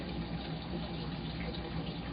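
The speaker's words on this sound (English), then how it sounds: "Why don't you go turn on the water and start filling this up?" Water gushes steadily into a 75 gallon aquarium tank, a constant, faint rushing pour with no break.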